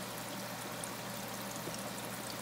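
An aerator pushes air through the water in a truck's tank for holding elvers, making a faint, steady bubbling and rushing wash with a low hum beneath and no voices.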